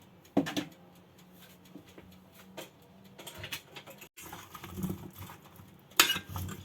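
Potato and carrot pieces tossed with salt, chili powder and turmeric in a bowl give soft patters and scrapes, quiet and close, with a sharper clatter near the end.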